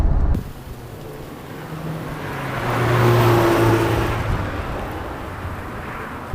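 A 1991 Toyota MR2 Turbo accelerates hard, the engine note rising and swelling louder toward the middle before easing off, with a steady whir and no one talking.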